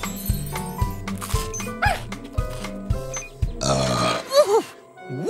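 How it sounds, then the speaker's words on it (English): A big, loud burp in a children's educational show, among playful cartoon sound effects, squeaks and bouncy tones. "That was a big burp"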